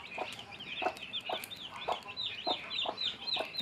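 Desi hens and newly hatched chicks cluck and peep repeatedly at close range, short chirps and clucks recurring in a steady rhythm with no talking.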